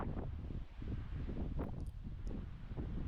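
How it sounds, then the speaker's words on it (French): Strong wind gusts along a coastal footpath on the Île de Ré, buffeting the microphone with a low, rumbling rush that swells and eases. "Le vent souffle fort"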